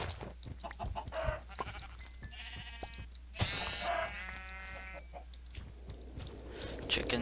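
Minecraft Tekkit chicken clucking in short, repeated bursts alongside sheep-like bleats and other farm-animal sounds of the game, layered over soft footsteps and background game noise.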